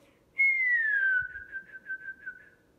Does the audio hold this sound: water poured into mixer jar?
no